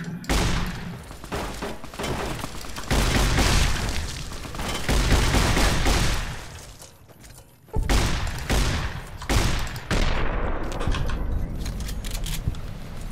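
A shotgun fires repeatedly during a fight in Fallout New Vegas, with heavy booming blasts in uneven bursts amid loud combat noise and short quieter gaps between volleys.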